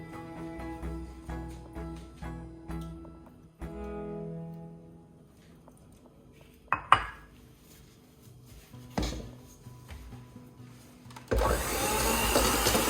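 An electric mixer beats whipping cream in a bowl. Clinks and knocks of the bowl lead into a loud, steady motor whir that starts abruptly near the end and keeps running.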